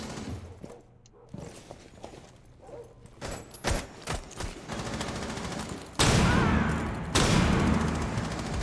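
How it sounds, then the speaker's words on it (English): Bursts of gunfire crack through a competitive video game match, scattered single shots giving way to sustained loud automatic fire near the end, with a commentator's voice faintly underneath. "Shooting a lot of bullets."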